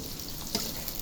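Chopped onion being stirred in hot oil in a pan over a clay stove for a country chicken dish, a steady soft sizzle with two brief scraping stir strokes standing out.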